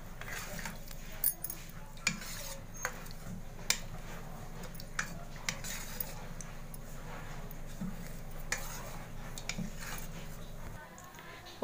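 A spoon stirs boiled bottle gourd into yogurt raita in a bowl, giving a steady run of light, regular clinks about once a second over a soft background hiss.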